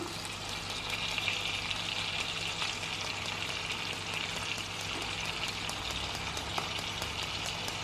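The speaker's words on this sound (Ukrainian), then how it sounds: "Підсмажила з однієї сторони, зверху цибулю поклала і зараз буду перегортати" Hake fillets fry in a pan with sliced onion laid on top, giving a soft, steady sizzle and crackle that runs evenly and quietly from start to finish, with nobody speaking.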